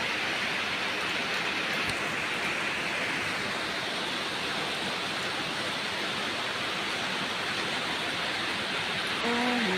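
Rain pours down steadily in a dense, even hiss with no pauses, heavy and close.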